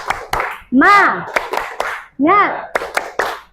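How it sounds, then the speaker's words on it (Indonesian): Students performing a rhythmic spirit clap in a classroom icebreaker, crisp patterned hand claps in short groups broken by the teacher's call and the class shouting back in unison, twice in quick succession. "Tepuk semangat."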